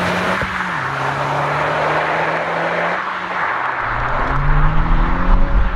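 A Honda Civic Type R drives over a rough, bumpy road surface, giving a steady loud engine drone with road rumble and a heavier low roar building toward the end, with no talking.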